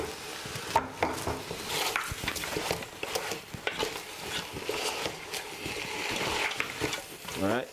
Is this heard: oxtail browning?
yes